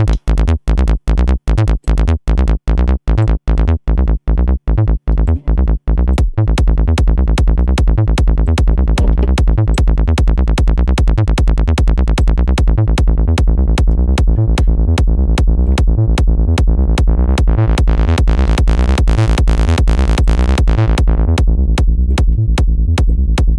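Looped psytrance bass line built in the Sytrus synth, a rapid driving stream of loud pulsing notes with a filter sweep rising and falling, continuous and alone.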